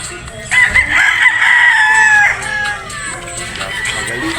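A Boston Roundhead gamefowl rooster lets out one loud, drawn-out crow close by, lasting nearly two seconds before fading into quieter farmyard background.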